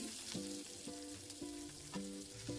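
Mustard seeds, curry leaves, dried red chili and onion fry in a spoonful of oil in a small kadai, a steady close sizzle with occasional stirring scrapes and faint crackles.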